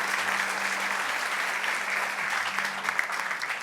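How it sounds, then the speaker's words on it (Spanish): A church congregation applauds God during a sermon, steady close clapping that holds evenly across the whole stretch with a faint low tone underneath. "denle el aplauso fuerte a nuestro Dios"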